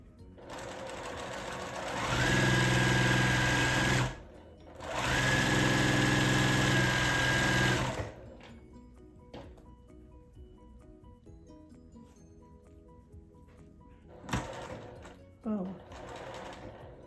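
A sewing machine stitches a farmhouse quilt block in two steady, whirring runs of a few seconds each, close up, then falls quiet apart from faint handling noises and a brief voice.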